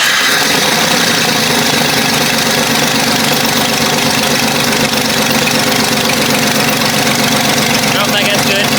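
A Jeep 4.0L engine running steadily after being cranked, a loud, continuous mechanical rumble with ticking and knocking texture, close up and unbroken throughout.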